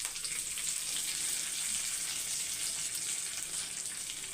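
Dried red chili and curry leaves frying in hot oil in a pan, a steady close hiss and crackle of sizzling that holds evenly throughout with no talking.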